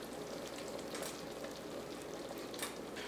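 Butter stirred into hot caramel in a high-sided pot, a steady soft sizzling bubble with faint scraping of the spoon, close and even throughout, no voices.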